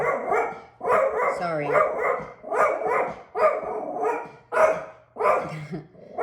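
Dogs bark repeatedly in short bursts close by, a regular string of yapping barks with brief gaps and an occasional whimper.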